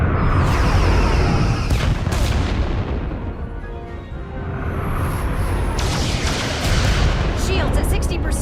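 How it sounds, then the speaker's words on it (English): Starship phaser fire and booming impacts in the Star Trek Resurgence game, loud sweeping energy blasts and heavy rumbles in repeated bursts, with dialogue heard around them. "Fire phasers!"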